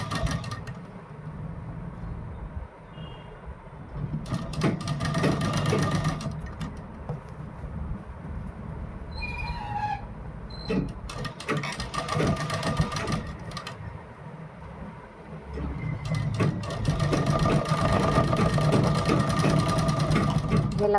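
A sewing machine stitches a kurti neckline in quiet bursts of steady whirring, starting and stopping several times with pauses between runs.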